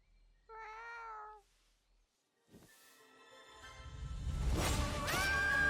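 Cartoon cats give a single clear, drawn-out meow, followed after a pause by a whoosh and rising loud background music.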